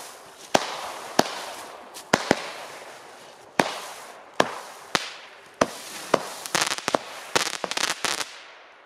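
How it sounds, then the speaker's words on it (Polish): Murmina TB143 Tropic firework launcher firing outdoors, a sequence of sharp bangs spaced about a second apart that quicken into rapid crackling bursts near the end, fairly close and with no voices over it. "Ciche fajerwerki."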